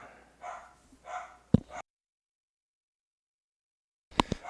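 Dogs barking at someone walking past with another dog, a few separate woofs and yips at a distance, then a gap of quiet before two more barks.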